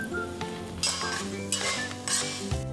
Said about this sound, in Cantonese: 待有煙升起之後，就可以落蒜片炒香。